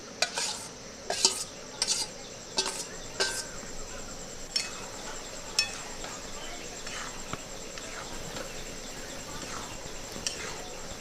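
Lentil dal with bottle gourd and fried potatoes being stirred in a pot, with soft spatula clicks and scrapes repeating at first, then thinning out over a quiet, steady background hiss.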